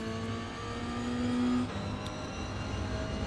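Toyota GR86 engine in the iRacing simulator at Indianapolis road course, a steady mid-pitched drone that swells as the car gets back on the throttle out of a corner, loud and continuous with no talk.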